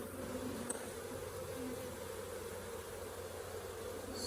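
Honeybees buzz steadily around an open Flow Hive frame of a booming hive with a big frame of brood nearby, a dense close drone that holds evenly throughout with no talk.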